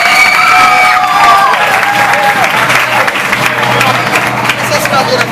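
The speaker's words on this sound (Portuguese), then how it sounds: "todos uma salva de palmas para as duas equipes" Audience applause for two competing teams after a school gincana contest, steady dense clapping with cheering and shouting from a crowd that includes children, loud and continuous throughout with a few whistles over it.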